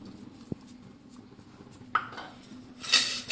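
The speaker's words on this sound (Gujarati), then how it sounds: "આ રીતે આપણે એને સારી રીતે મિક્સ કરી લઈશું." Spoon clinking against a metal pot while banana chips are tossed with sprinkled spice masala; a sharp tap, then scraping and rattling that grow busier toward the end, with no talking.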